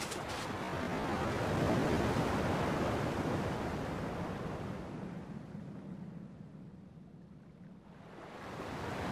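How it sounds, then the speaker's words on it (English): Ocean waves in the video game Kingdom Hearts 2 roll in as a steady broadband wash, swelling early, easing off in the middle and building again near the end, with no voices. "At least the waves sound the same."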